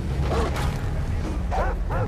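A dog barks in the video game Far Cry 3: two short bursts of yapping barks, one near the start and one toward the end, over a steady low game rumble.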